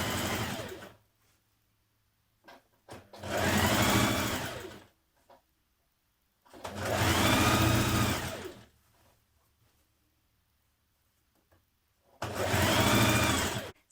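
A sewing machine stitches the side seams of lounge trousers in three loud, close bursts of whirring motor noise, each lasting a second or two and separated by quiet gaps.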